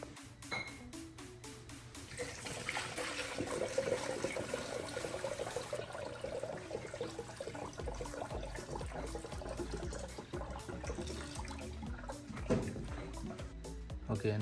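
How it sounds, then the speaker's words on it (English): Distilled water pours through a funnel into the radiator of a Honda Civic or Accord during a coolant flush, a steady close gurgling trickle that runs continuously with some clinks and handling noises. "and then we start filling it with distilled water."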